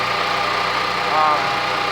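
A Predator 8750 portable generator engine runs steadily nearby, a loud even drone with a slight pulsing swell midway through.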